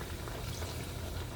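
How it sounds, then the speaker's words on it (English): A gravy base full of seasoned vegetables boils in a pot, a continuous close bubbling and gurgling at low volume with no pauses. "So our gravy base is already boiling"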